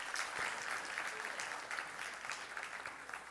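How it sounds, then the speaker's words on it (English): Audience applause at a public board meeting rings out as a faint, steady wash of clapping from a room of people, continuing evenly for a few seconds with no voices on top. "please give him a round of applause again"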